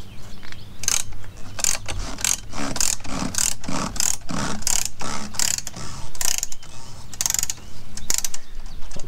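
A hand ratchet loosening X-Chock trailer wheel stabilizers clicks in quick irregular strokes, loud and close, with metallic pawl ticks repeating steadily throughout.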